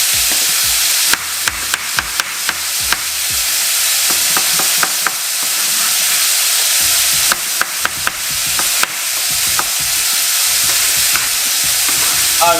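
Courgettes stir-fried in a hot pan give a loud, continuous sizzle up close, punctuated by repeated sharp clacks and scrapes of a utensil tossing the pieces in irregular bursts.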